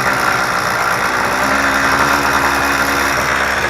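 A motorized BMX bike's small engine idles with a new exhaust fitted, a steady, loud, buzzing drone that runs unbroken and close to the microphone.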